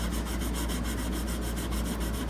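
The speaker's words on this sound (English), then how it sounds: "just kind of have to keep turning the sandpaper" Sandpaper rubs steadily across the metal frets of a 1937 Epiphone Triumph guitar in quick, even back-and-forth strokes, close and continuous with no voices.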